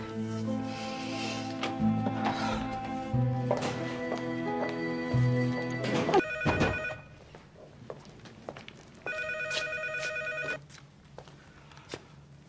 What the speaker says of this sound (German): Susanne, Telefon